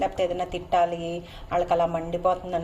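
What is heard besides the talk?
None of the usual background noises is heard.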